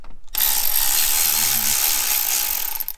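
A power ratchet spins steadily to loosen a clamp on a 2019 Volkswagen GLI during a turbo discharge install, giving a close, loud continuous whirring burst that cuts off sharply at the end.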